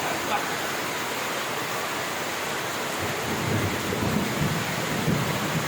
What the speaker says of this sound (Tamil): எப்படி மழை பாரு. ஏய் மழை